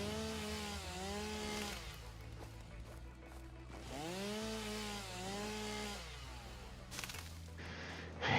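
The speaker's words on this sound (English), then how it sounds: "And prepare for the chainsaw noise." Video game chainsaw from Satisfactory, a faint droning motor buzz with two rising-and-falling revving sweeps, steady and continuous with a brief harsher burst near the end.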